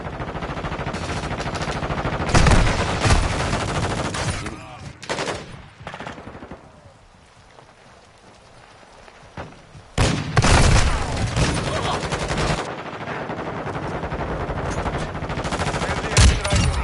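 Heavy gunfire from the video game Modern Warfare 2: loud bursts of automatic fire and rapid shots come in dense clusters, drop to a brief lull, then return as sustained rattling volleys over a constant battle din.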